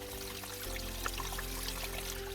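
Water pours and trickles steadily in a valley on a deer hunt, a continuous close wash with no talk.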